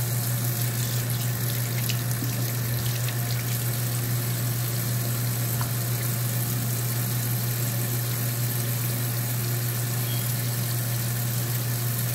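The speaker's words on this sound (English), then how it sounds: "I'm gonna wash my brush out." Water from a tap runs steadily throughout while a paint brush is washed out under it, a constant close rushing hiss with a low hum beneath and no talk.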